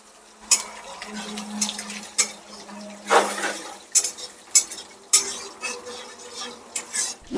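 Spice paste stirred and sautéed in a metal pan while cooking a Jamai Sasthi feast, with repeated scraping strokes of a spoon against the pan over a soft, steady sizzle and no talking.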